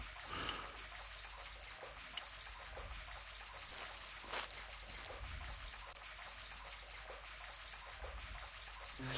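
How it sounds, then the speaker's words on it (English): Rusty-colored water streams and trickles from a creaking faucet in the Broken Sword video game, a steady close hiss of running water with a few faint drips and clinks throughout. "The faucet creaked, coughed, and spewed out a stream of rusty-colored water."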